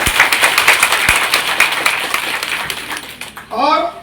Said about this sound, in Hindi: एक बार जोरदार ताली को बजाना चाहिए।